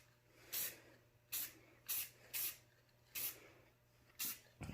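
Aerosol spray paint misted in light coats onto a DIY Boba Fett helmet stand, six short hissing bursts spaced about a second apart, fairly close, with a steady low hum underneath and no talking.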